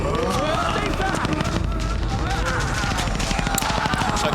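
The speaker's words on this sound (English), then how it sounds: "they keep shooting at the stomach" Rapid, dense gunfire in the Resident Evil 2 video game, a continuous barrage of shots mixed with in-game voices and action noise throughout.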